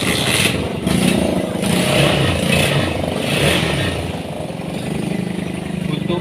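An old Honda CB150R motorcycle engine idles loudly and close by after starting, with a steady rough rumble and mechanical clatter and slight rises in revs.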